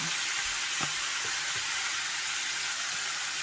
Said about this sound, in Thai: ก็ผัดร่วมกับเห็ดจำปิยองค่ะ